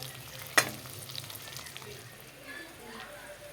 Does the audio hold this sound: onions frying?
yes